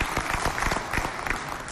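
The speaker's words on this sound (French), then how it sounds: "On applaudit." Studio audience applause on a French-language talk show, a short round of close, crisp clapping that holds steady before easing off.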